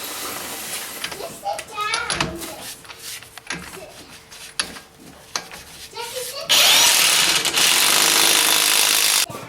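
A power tool whirs loud and steady near the end while tightening the axle nut on a Honda Civic, after scattered clanks and scraping sounds and some voices in the background.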